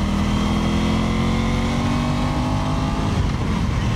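Steady, loud engine drone from an Aprilia Tuono 660 Factory motorcycle on the move, holding a fairly even note with small shifts in pitch throughout.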